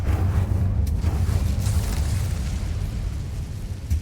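Incendio fire spell cast in Hogwarts Legacy, a loud, rumbling whoosh of flame that roars steadily for several seconds and fades slightly, with no talking.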